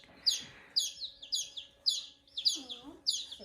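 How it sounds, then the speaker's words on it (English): Young chicks peep in a brooder, calling toward a chick still in the incubator: sharp, high chirps repeated about every half second, fairly close, with faint background noise. "there's still one of the chicks in the incubator, so they're calling to it"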